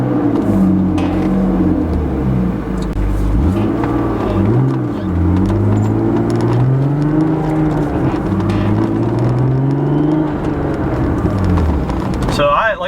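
A turbocharged BMW E36 M3 pulls away and accelerates, its engine droning loud and close as the pitch climbs and falls through several gear changes.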